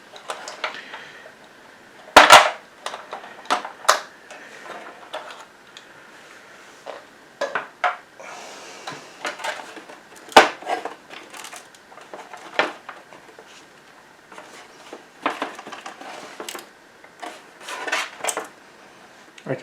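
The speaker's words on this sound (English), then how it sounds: "I can definitely hear something rattling inside there." Loose parts rattle and clatter inside an Xbox One console as it is shaken and tilted, giving sharp irregular clicks and knocks in bursts with short pauses between them.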